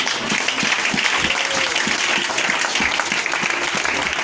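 A church congregation claps together in a steady, rhythmic applause that fills the room evenly and loudly from start to finish, with no speech over it.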